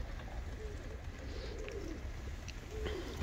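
Pigeons coo softly and at a distance, with low, rounded calls rising faintly above a steady outdoor hiss.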